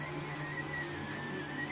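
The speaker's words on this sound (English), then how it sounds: "So what you're looking at is actually my brother's 3D printer." A 3D printer runs at home in a steady, continuous mechanical whir with a faint sustained whine, close and unbroken throughout, with no talking.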